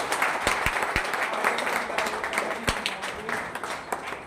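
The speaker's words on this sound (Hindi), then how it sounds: "जोरदार तालियां लक्ष्मी भाई के लिए, जोरदार तालियां" Loud applause for an honoree at a recovery birthday gathering, steady crowd clapping with a few sharp, distinct claps standing out over a light murmur of voices.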